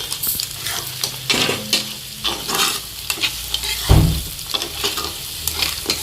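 Crab curry is stirred in a pan, with scraping spoon strokes over a soft sizzle and one heavy clunk against the pan midway.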